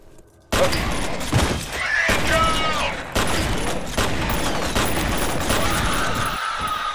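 Shotgun fire in the video game F.E.A.R. (2005) comes in as a sudden loud burst, followed by rapid, heavy shots mixed with shattering debris and chaotic combat noise that continues densely throughout.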